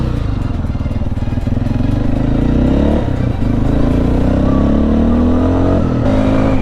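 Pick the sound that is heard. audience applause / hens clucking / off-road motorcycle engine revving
off-road motorcycle engine revving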